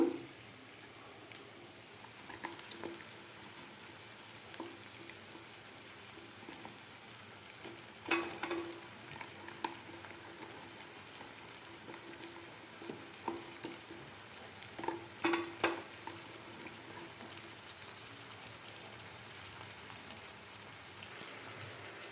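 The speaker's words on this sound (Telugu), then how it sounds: "ఇది బాగా పచ్చివాసన పోయే వరకు వేయించుకోవాలి" Broad beans (chikkudukaya) fry in a pan for a tomato masala curry, with a faint, steady sizzle like light rain and occasional soft spatula scrapes and taps, more of them toward the end.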